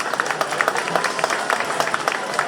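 Outdoor crowd applause and clapping for the Montclair Mounties cheerleaders at an Independence Day parade, close individual claps in an uneven rhythm over a broader murmur of the crowd.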